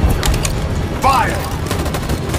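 Gunfire laid down as covering fire in the video game Detroit: Become Human, a burst of shots and impacts with a sharp whine mid-clip over a noisy game background.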